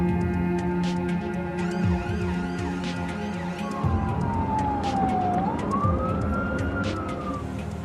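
An ambulance siren wails with a slow rising and falling tone that emerges midway over a constant hum of road traffic and engine noise.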